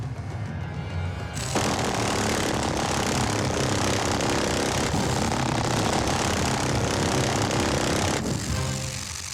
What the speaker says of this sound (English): After firing the minigun handheld, I realized that Larry is right.